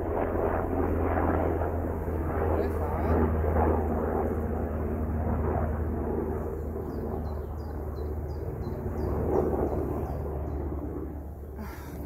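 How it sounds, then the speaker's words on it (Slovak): Helicopter passing overhead near beehives outdoors, a steady low rumbling engine drone that swells and fades slightly at a moderate distance. "Prišla sa na nás pozrieť aj helikoptéra."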